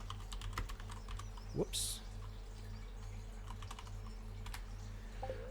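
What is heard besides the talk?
typing on a computer keyboard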